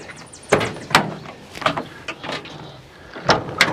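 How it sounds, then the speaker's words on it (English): A van's sliding side door rolls open with several scraping, clunking bursts and a faint squeal, close by and without speech. "open this side door"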